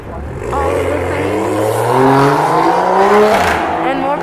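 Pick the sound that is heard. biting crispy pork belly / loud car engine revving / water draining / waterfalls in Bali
loud car engine revving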